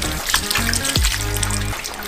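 Tap water runs and splashes while watermelons are washed under a faucet, a close, uneven trickle and gurgle with shifting pitch as the fruit moves in the stream.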